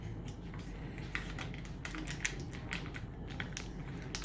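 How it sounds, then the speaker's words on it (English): Packaging for cookie baking ripped open by hand, giving a close run of crackly tearing and crinkling bursts with sharp clicks, steady and unaccompanied by talk. "I'm just gonna rip it open."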